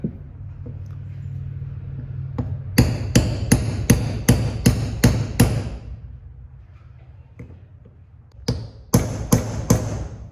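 A hammer tapping a seal into place on a Toyota 22R power steering pump being rebuilt, in two bursts of sharp, evenly spaced knocks, about eight then five, close and crisp with a quiet pause between.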